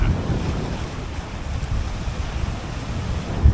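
Rough, choppy sea water churns steadily under gusting wind that buffets the microphone, a continuous close roar with no voices, heard from a fishing boat on open water after the weather turned.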